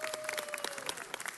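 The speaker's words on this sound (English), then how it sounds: "Can we all give them all a big round of applause?" Audience at a city council meeting applauds, dense even clapping from many hands filling a short burst, moderately distant with a faint tone underneath.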